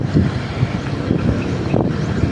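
Steady wind buffets the microphone with a low, constant rumble, with no voices, only a faint watery wash underneath.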